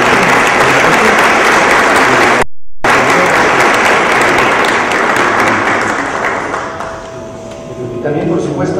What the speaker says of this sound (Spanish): Vamos a dar un fuerte aplauso y agradecerle que esté con nosotros.